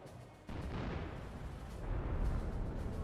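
Artillery barrage pounding a base in the video game Company of Heroes, heard as a steady, dense rumble of distant blasts that swells slightly toward the end, with no talk over it.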